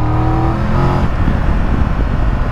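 A loud three-cylinder Triumph Tiger 1200 GT Pro motorcycle engine revs up briefly, then settles into a rough, rumbling idle up close.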